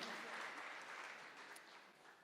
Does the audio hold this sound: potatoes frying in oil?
no